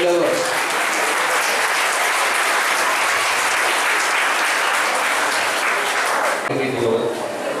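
Sustained, dense audience applause at an ex-service league gathering, a loud, steady wash of clapping from a crowd that carries on for several seconds before thinning slightly at the end, with a voice heard faintly beneath it.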